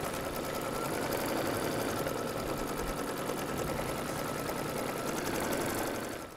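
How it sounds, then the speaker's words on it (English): An embroidery machine sews a tacking stitch around the hoop, a loud, steady mechanical whirring and needle chatter running without a break until it slows at the very end. "The next stitch is going to be the tacking stitch, which is going to go around twice, and that will hold your fabric in place for the next step."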